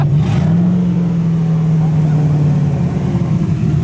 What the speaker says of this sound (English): I hear an S2000 that's no longer a Honda